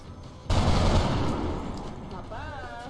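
Soldiers open fire in XCOM Long War, a sudden burst of gunfire that starts abruptly and rings out loud and sustained for over a second before tapering off, with a brief electronic tone near the end.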